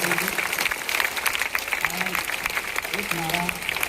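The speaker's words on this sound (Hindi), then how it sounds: "एक बार जोरदार तालियों से सर का" Students at an intermediate college applaud loudly during an anti-drug pledge event, a steady clapping crowd with voices talking over it.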